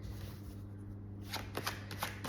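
Tarot cards are shuffled and drawn, starting with soft rubbing and then giving a quick run of crisp riffling flicks and slaps near the end, close and fairly quiet, with no speech.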